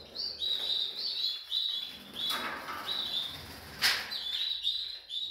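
Canaries in a breeding flight cage give repeated high, bright chirps and short tweets, with brief bursts of wing flapping, all fairly soft and close with no talking.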